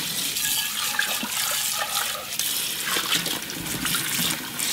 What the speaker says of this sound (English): I'm going to rinse this in cold water.